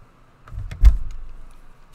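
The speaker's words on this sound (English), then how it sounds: "That was the chair, if you heard something." Chair creak, a single short squeak-and-thud lasting about a second, fairly close and alone against near silence.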